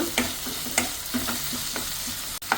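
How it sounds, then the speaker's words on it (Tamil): Chopped tomato sautéed in a pan for an egg curry with mango, with a spatula scraping and clinking at a steady rhythm over a soft, continuous sizzle, heard close with no voices. "நல்லா வணக்கிக்குங்க, உடையிற வரைக்கும் நல்லா வணக்கிக்குங்க"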